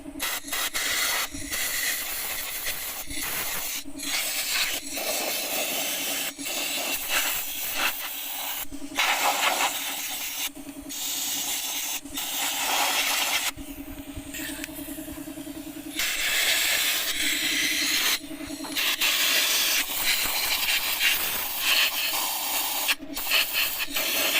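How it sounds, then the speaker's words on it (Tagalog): Compressed air blasting to clean the battery compartment of a Honda Click 150 V2 scooter, a loud continuous hiss with repeated short bursts and brief pauses, close by, with no talking. "Kailangan natin linisan to. Buti may compressor si boss."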